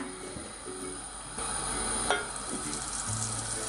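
Steady frying sizzle of butter in a hot pan for roti, a continuous crackling hiss with a few small clinks, no voices.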